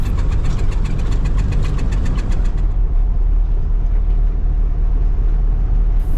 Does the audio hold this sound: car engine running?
yes